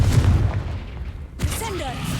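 Confringo, a fiery blasting spell cast in Hogwarts Legacy, lands as a sudden loud burst with a crackling, whooshing tail over a continuous game soundscape.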